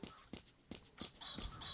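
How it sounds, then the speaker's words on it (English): A dog in the video game S.T.A.L.K.E.R. Shadow of Chernobyl gives faint, distant yelps in a steady rhythm of short pulses over a quiet, hissy in-game ambience. "Oh, that's a dog."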